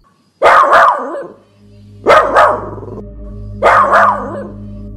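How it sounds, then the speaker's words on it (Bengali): A dog barks loudly in three separate bursts spaced about two seconds apart, each followed by a lower lingering tone, coming from downstairs at night. "এমন সময়ে তারা নিচ থেকে কুকুরের তীব্র ডাক শুনতে পেল।"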